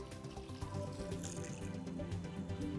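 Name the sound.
water running out during whole house filter backwash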